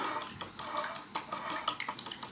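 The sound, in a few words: stirring food in a pan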